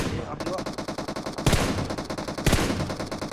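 Rapid, continuous automatic fire from PUBG Mobile with a steady rhythmic rattle throughout, punctuated by two louder close blasts, no talking over it.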